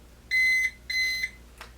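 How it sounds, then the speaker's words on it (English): A Kwikset Powerbolt 2 electronic lock gives two short, high electronic beeps in quick succession, close and clear, followed by a faint click. "We got 2 beeps"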